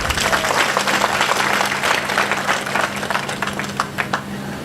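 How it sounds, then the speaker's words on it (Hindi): Loud, sustained applause from a crowd at a statue unveiling ceremony honouring a martyred soldier in Rajasthan, dense clapping running steadily for several seconds with a faint low hum beneath. "तो मुझे लगता है जोरदार ताली बजानी चाहिए आपको।"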